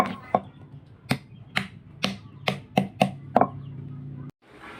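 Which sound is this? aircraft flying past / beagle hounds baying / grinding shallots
grinding shallots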